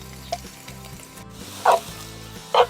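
Sliced young onion is added to mushrooms already frying in a pan, giving a steady low sizzle with a few louder hissing bursts as the ingredients hit the hot fat, without any talk.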